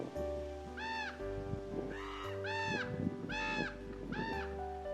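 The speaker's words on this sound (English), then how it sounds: "It was so peaceful and quiet, except for the wind and the squawky crows." Crows caw about five times in a loose series of harsh, nasal calls, moderately close, over a low, steady wind rumble.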